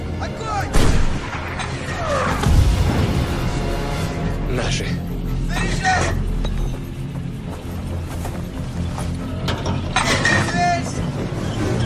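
Loud battle din from a Russian war film about the Brest Fortress: heavy gunfire and artillery-like blasts mixed with clanking, mechanical rattling, and shouting voices throughout.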